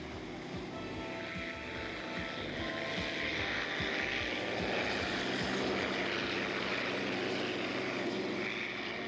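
Three racing boats' engines drone together before a race restart in Evansville in 1986, a continuous distant roar with a broad wash of water or wind noise.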